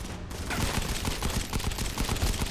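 Rapid gunfire in the mobile shooter Modern Combat 5, a continuous fusillade of loud close shots with no break across the short stretch.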